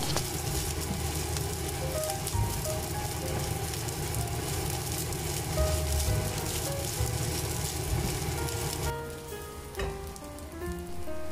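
Bacon and egg fried rice crackles and sizzles loudly in a hot pan while being stir-fried, dense and continuous with occasional scraping clinks, and quiets a little near the end.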